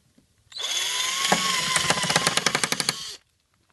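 A cordless power drill bores holes for mounting a speaker, a steady whirring whine for about two and a half seconds, breaking into rapid rhythmic clicking near the end before stopping abruptly, close and alone.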